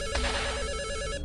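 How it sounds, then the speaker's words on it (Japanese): A telephone rings loudly inside a horror video game, a steady electronic ringing tone sustained throughout with dense harmonic layers. "ベリは電話の音にびっくりして"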